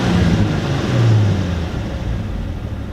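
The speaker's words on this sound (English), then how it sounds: "as soon as I rev and the RPMs go up, when it just drops and acts like it's gonna die." A Nissan 350Z engine revs up loudly nearby and then sags, its roar dropping and roughening as if about to stall, a symptom of a faulty camshaft sensor.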